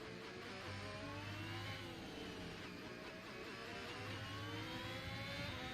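F1 race cars in the F1 2021 video game at the Imola Grand Prix, engines screaming at high revs in a steady, loud wall of sound with rising and falling harmonic whines as cars pass one another.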